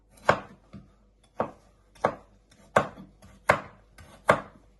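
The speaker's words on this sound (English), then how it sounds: "And then you just want to slice them into little pieces like that." Sharp knife strikes slice carrots on a cutting board, six or seven distinct cuts spaced roughly evenly, close and clear with no voices.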